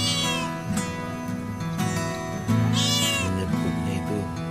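A male tricolour calico cat meows loudly and close by, giving several drawn-out, rising and falling cries in quick succession against a faint background hum.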